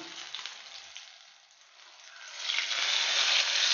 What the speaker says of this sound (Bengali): এই তেলেই কিন্তু বেগুনটা ভাজা হয়ে যাবে